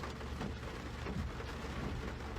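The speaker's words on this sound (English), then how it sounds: "and pardon the rain" Steady rain falls outdoors, a dense even hiss of drops hitting surfaces, continuous and moderately quiet with no voices over it.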